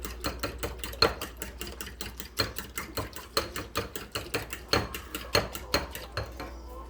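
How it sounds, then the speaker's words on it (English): A whisk or fork beating eggs and milk in a bowl for mac and cheese, quick clinking strokes in a steady rhythm, close and bright, with no voices. "I put 2 eggs, some milk, stir it up real good."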